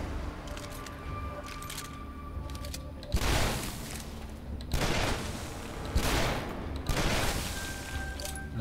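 Gunfire in the Shadow Warrior video game: three or four loud broadband blasts ring out about a second apart over a steady hum of game ambience, with no talk.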